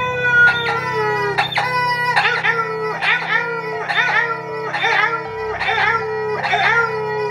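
A chicken sounds off in a long run of about eight evenly spaced, harmonic clucking calls, close and loud, over a steady low hum.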